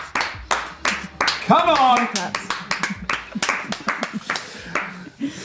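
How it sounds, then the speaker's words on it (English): Live audience clapping at a politics podcast show, sharp hand claps in a scattered, loose rhythm that swell briefly then fade, heard close under a host's talk. "But there we go, another round of applause."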